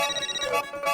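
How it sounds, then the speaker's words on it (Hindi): An electronic phone ringtone plays a bright, repeating melodic pattern, fairly loud and close, with no voices. "अब्दुल का फोन"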